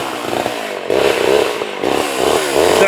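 Homelite XL chainsaw cutting wood at a vintage saw gathering, a loud close engine snarl that bogs and rises as the chain bites through the log, continuous with no talking.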